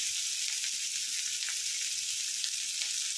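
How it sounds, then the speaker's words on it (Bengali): Onions sizzle steadily in hot oil in a pan for a Bengali mustard bitter gourd dish, a continuous bright crackle that stays close and even throughout, with no talking. "দিয়ে এবার পেঁয়াজটাকে ভালো করে ভেজে নেব।"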